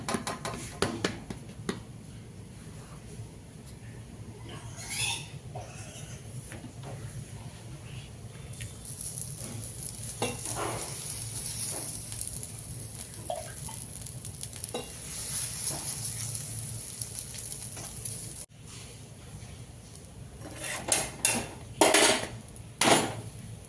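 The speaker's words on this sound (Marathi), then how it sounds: "आपला तवा गरम झालेला आहे तर मी भाकर टाकते तव्यावर" Bhakri flatbread cooking on a hot tava griddle, with a steady close sizzle and scattered scraping and clinking of utensils throughout, growing busier near the end.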